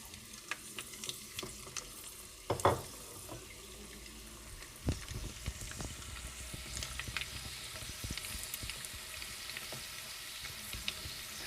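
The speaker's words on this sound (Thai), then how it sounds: "เอาใส่ลงไปเลยจ้ะ น้ำมันได้ทีแล้ว เอาลงทอดเลยจ้ะ" Prepared rice balls deep-frying in hot oil, a steady crackling sizzle with a louder burst near the start as they drop in, close and continuous throughout.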